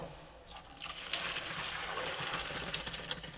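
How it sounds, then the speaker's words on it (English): Hot water pours and splashes out of a pot of fagioli stew as it is drained, a steady broadband gush rising after a brief start and continuing loudly to the end, close by and without talk. "Now I'm going to take this over and drain the rest of this out."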